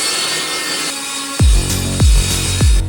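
Plywood panels are cut with a power saw for a large 2x4-framed gaming throne, giving three loud, close cutting bursts in quick succession, each ending in a falling whine.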